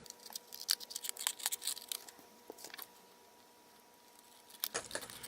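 Scissors snipping through paper close by, a run of quick crisp cuts followed by a pause and then a few more snips, with no talking.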